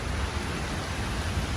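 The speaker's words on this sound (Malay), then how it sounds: "So keadaan sekitar sekarang ni masih lagi hujan." Steady rain falls at a campsite, a dense, even hiss of drops on surfaces with no breaks, fairly close and moderately loud.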